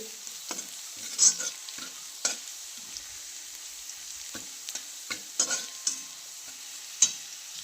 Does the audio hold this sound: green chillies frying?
yes